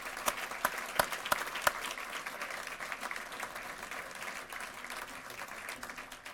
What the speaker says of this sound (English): let's give all these students a final round of applause.